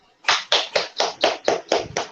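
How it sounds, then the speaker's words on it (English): An audience claps for a meme contest winner at a startup event, about eight distinct, evenly spaced claps in a steady rhythm, close and fairly loud. "clap it, guys"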